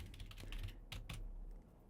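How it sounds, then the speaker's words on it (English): Fingers tap out a short burst of keystrokes on a computer keyboard in a college radio talk-show studio, with a handful of crisp, close clicks and no voices over them. "This is me typing in what is your name, or come up with a name for yourself."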